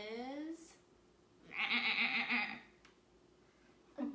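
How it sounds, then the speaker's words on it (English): A sheep bleats once, a clear wavering cry of about a second, with a person talking briefly before and after it. "a goat. No, not a goat. A sheep."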